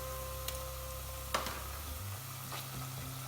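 Tomato paste and pepper paste sizzle with onions in a pan, a steady soft frying hiss broken by a few faint clinks of stirring, with no voices.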